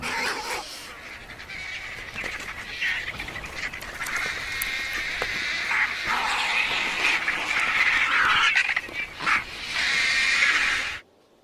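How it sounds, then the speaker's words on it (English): Vultures squabble over a carcass on the African plains during the great migration, harsh raspy squawks and cackling calls overlapping in bursts that rise to a noisy peak near the end before stopping abruptly. "This is a battle that vultures invariably win."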